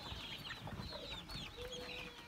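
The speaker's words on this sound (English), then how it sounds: "300 chicks here." Faint peeping and clucking from a crowd of young chicks on a farm, soft overlapping calls at a distance with low background rumble.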